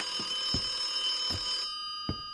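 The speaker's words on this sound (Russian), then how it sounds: "Иди поднимай, блин, телефон." A telephone rings in the PS4 video game The Occupation, a bright sustained electronic ring that cuts off partway through, with soft knocks underneath and no voices.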